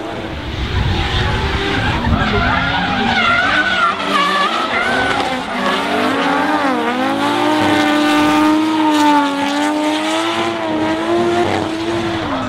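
Drift cars including a Nissan S15 and a 180SX slide through a Pro-Am round at Hampton Downs, tires squealing loudly in long wavering howls over steady engine roar, close and continuous throughout.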